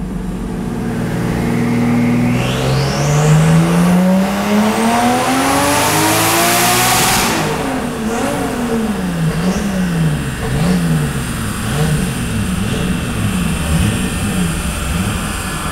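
A turbocharged Nissan Skyline R34 engine revs hard on a dyno, climbing to a high scream, then rises and falls repeatedly in rhythmic surges, loud and close.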